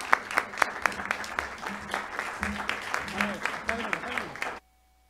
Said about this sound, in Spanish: yo los invito a que nos pongamos de pie y al aplaudirle a Sergia